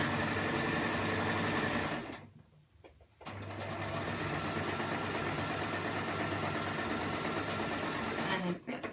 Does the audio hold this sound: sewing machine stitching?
yes